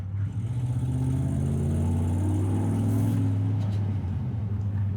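A 2010 Ford F150 truck engine runs smoothly on a test drive, a steady low rumble with a faint rising and falling of revs, heard close up from inside the cab.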